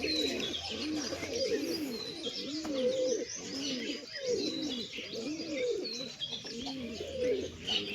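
Wild pigeons coo in a repeated, rhythmic series of soft, rolling calls close by, with faint chirps above and a voice speaking now and then underneath.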